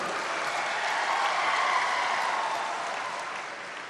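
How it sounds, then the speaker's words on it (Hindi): Applause welcomes two ministers at a state employment day event in Madhya Pradesh: a crowd claps steadily and fairly loudly for about four seconds, dense and sustained with no voices over it. "दोनों मंत्रियों का ताली बजा के स्वागत कीजिए"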